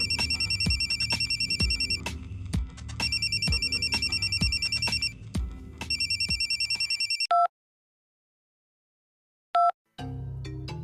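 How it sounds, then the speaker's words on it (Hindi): An old-style telephone bell rings loudly in repeated double bursts, stops, then gives two short electronic chirps before a low hum returns; no one speaks. "बड़ी जल्दी उठा लिया तुमने मेरा फोन।"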